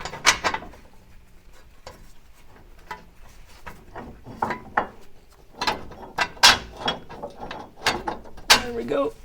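Bolts being rethreaded into a Corvette C3 front suspension, giving irregular metallic ratcheting clicks and clanks of parts shifting, close and intermittent with quiet gaps between.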